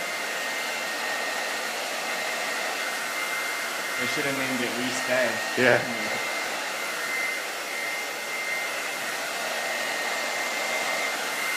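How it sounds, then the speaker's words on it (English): A Wigo blow dryer runs continuously while drying hair, a steady loud whooshing hum throughout, with a short stretch of talk over it partway through. "great great blow dryer"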